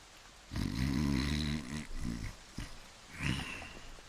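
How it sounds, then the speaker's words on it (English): A man snores somewhere at the back of a room, with a long rasping snore followed by shorter snorts, heard at moderate distance in an otherwise quiet space. "snoring man in the back"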